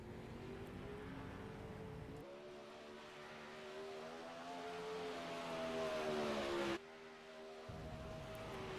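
Sprint car engine at Eldora Speedway in iRacing, a faint buzzing engine note that rises in pitch as it accelerates, cuts sharply for a moment, then resumes.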